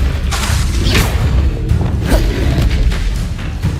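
A Confringo spell blast in Hogwarts Legacy erupts with a deep, loud boom and swooshing magical rush, followed by rumbling thuds and mechanical clatter that keep the mix dense throughout.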